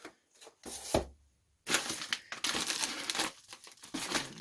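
Plastic bubble envelopes crinkle and rustle up close as they are pulled from a parcel of moped parts, in uneven bursts with a short quiet gap before a longer stretch of continuous crackling handling.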